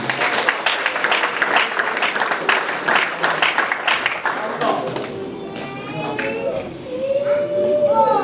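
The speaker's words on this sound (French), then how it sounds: "nous pouvons l'acclamer encore pour l'encourager" Applause and clapping from a wedding crowd cheering the bride, dense and steady for about five seconds before fading into quieter room noise with some voices and a whistle-like tone.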